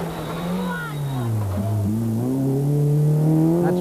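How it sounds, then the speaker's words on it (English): A rally car runs on a gravel stage at the 1993 Tipperary Stonethrowers Rally, its engine climbing and falling in pitch as it accelerates, with a steady loud drone that builds toward the end. "And Gus Carney is now motoring well"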